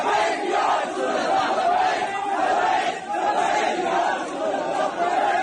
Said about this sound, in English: crowds of Muslims then gather in Pakistan and shout slogans